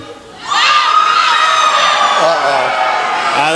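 Crowd at a wrestling event cheers and shouts loudly, a sudden surge of voices with high yells riding on top that keeps going to the end.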